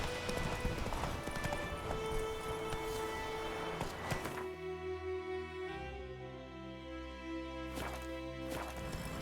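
Hooves of the horse Roach in the video game The Witcher 3, a rhythmic clip-clop heard close under background music, which thins out after a few seconds.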